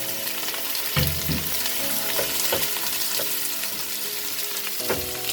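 Chicken gizzards and onions fry in a pan with a steady, close sizzle, broken by a few clattering stirs and scrapes.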